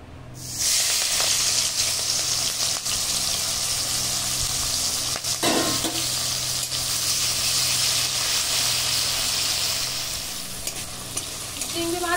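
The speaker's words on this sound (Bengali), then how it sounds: "চিংড়ি মাছ ভেজে নেব।" Prawns frying in mustard oil in a hot wok give a loud, steady sizzle from start to finish, with a brief burst of stirring or spatter near the middle.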